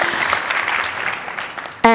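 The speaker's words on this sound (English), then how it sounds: "Let's give that a round of applause." An audience at a sustainability conference keynote gives a broad round of clapping that thins and fades over about two seconds, then a speaker's voice starts up.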